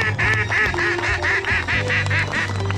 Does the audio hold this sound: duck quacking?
yes